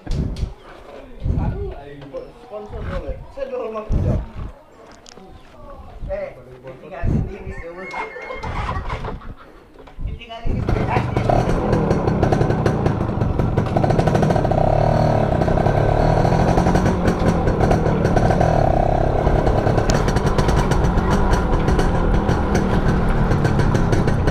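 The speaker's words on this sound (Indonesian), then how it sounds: "Ini kalau untuk mesinnya teman-teman, mesinnya cukup halus, karena ini motor kayaknya standaran banget ini." Someone talks over a rumbling engine, then a Yamaha F1ZR motorcycle engine roars up loudly and runs steadily and smoothly, drowning out other sounds.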